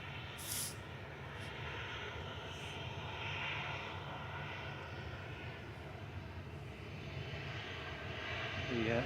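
A Sunno airliner's engines drone at Manchester Airport, a steady, moderately distant roar that holds throughout. Voices talk faintly over the engine noise.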